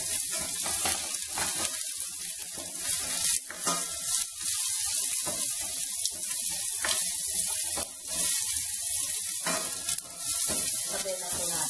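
Chopped onions hitting a hot pan for pinakbet, with ginger already in, give a continuous bright sizzle broken by periodic stirring scrapes and clinks, close and loud.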